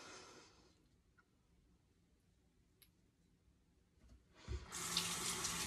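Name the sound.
water running from tap, rinsing off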